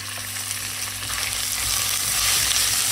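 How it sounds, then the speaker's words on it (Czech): Pork and lightly browned onions frying in a pan for risotto, a loud, close, steady hiss of sizzling fat that swells slightly toward the end, with no one speaking. "cibulka mi takhle lehonce zrůžověla, takže tam přidám to maso, co tady mám připravený."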